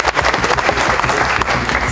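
Audience applause fills an award ceremony hall, dense and loud clapping from many hands, steady and close throughout a short burst.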